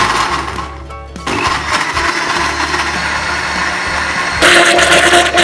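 A blender whirs loudly and steadily close by, blending banana milk, its motor surging briefly and picking up pitch near the end.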